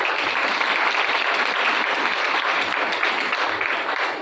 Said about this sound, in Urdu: ذرا زوردار تالیاں دو